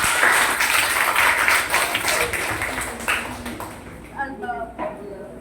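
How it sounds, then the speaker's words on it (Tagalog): An audience at a church seminar session on God's love claps together after an opening prayer. The applause is loud and crowded for about three seconds, then fades as a voice begins to speak. "Tataas po ang palakpak"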